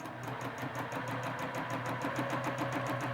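A sewing machine stitches the spine of a quilted feather motif with a fast, even chatter of needle strokes over a steady motor hum, close and continuous.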